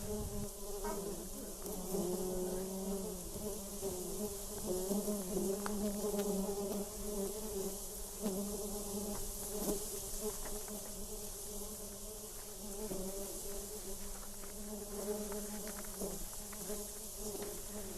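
Bees buzz continuously around a row of beehives at a small beekeeping business outdoors, a layered, droning hum with close passes rising and fading.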